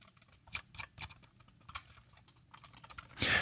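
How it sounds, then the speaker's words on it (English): A computer mouse is clicked right next to a gaming microphone, producing a series of sharp, close little clicks in an irregular run, followed by a louder rustling knock at the end. "Now I'm going to take this mouse that I have and click it near the microphone."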